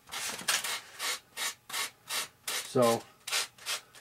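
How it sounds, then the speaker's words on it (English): Sandpaper rubbed across paint on an F-86 RC airplane model, a steady series of about ten close scraping strokes in a regular back-and-forth rhythm, with one brief spoken word partway through. "I'm gonna use a little bit of sandpaper here and sand across this stuff."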